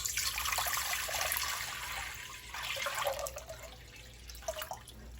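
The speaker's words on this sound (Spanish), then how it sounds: "Le voy a poner suficiente agua." Tap water runs and splashes into a cooking pot being filled for boiling shrimp, a steady splashing stream close by with shifting tone as the level rises. No voices are heard.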